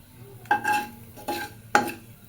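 Dried chilies and garam masala go into hot oil after potatoes have been fried. A utensil gives three distinct scraping stirs against the pan over a faint background sizzle.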